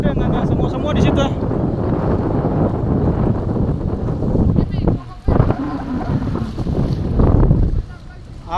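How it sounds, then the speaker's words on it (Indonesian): A ship maneuvers as it prepares to dock, with steady wind buffeting the microphone over a continuous low rumble of engine and water, and people talking nearby throughout. "Ibu-ibu, ini kapal mau persiapan sandar"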